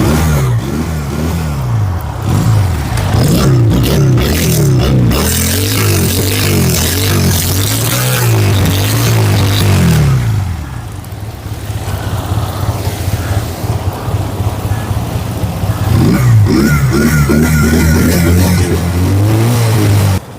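A Roadmaster CD 200 motorcycle engine runs loud and close, revving up and down repeatedly, with a brief easing to idle before revving again.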